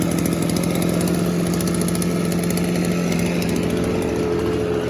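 Motorized backpack sprayer engine running steadily after a pull-cord start, used for spraying potatoes; a loud, continuous small two-stroke buzz close by, with no talking.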